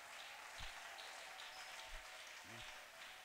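A church congregation claps in a faint, steady patter of applause at a distance, with a few low thuds underneath and no talk.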